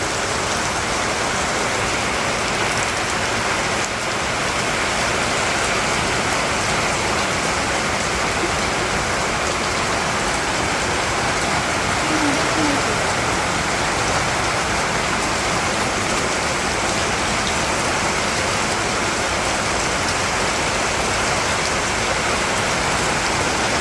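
Steady rain pours down over a village on a rainy day, a dense, even hiss of drops on surfaces that holds unbroken and fairly loud throughout, with no voices.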